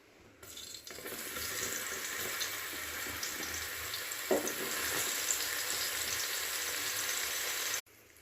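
Soybean chunks frying in hot oil in a pan, giving a steady, close sizzling hiss that starts abruptly, runs evenly with one brief clatter midway, then cuts off.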